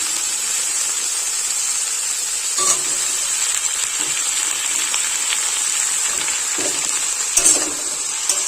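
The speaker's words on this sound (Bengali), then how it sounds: "কেটে রাখা আলু আর লাল শাকের ডাঁটা দিয়ে দেব" Cut potatoes and red amaranth stems drop into spices frying in a pan, bringing a steady hiss of sizzling oil and a few soft stirring knocks.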